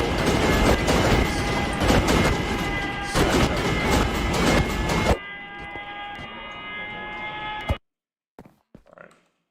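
Minecraft subway trains rumbling along a track in a build of the New York City subway, a dense, loud rolling clatter with steady tonal whine that drops to a quieter hum midway, then cuts out abruptly, leaving a few faint clicks.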